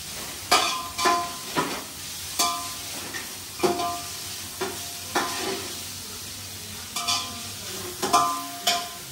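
Chopped onion roasting in a pan for biryani, with steady sizzle and repeated scraping stirs of a spatula at a regular rhythm, close and moderately loud, no talking.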